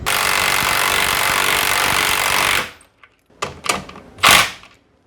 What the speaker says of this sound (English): Gotta love impact wrenches